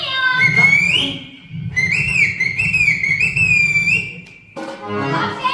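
A performer at a traditional Marathi tamasha folk theatre show whistles in imitation of a parrot, giving loud, close, warbling chirps in two bursts, followed by a short stretch of voice.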